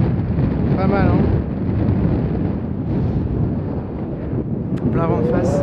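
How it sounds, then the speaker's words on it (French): Strong wind sweeps across the Royal St George's golf course, buffeting the microphone with a low, rumbling roar while someone talks over it throughout. "Là le vent il est vraiment terrible hein."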